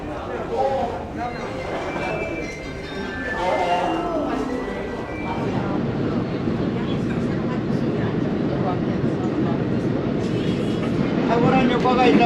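A train rumbles through Seoul Station in Korea, a steady low roar under loud nearby speech.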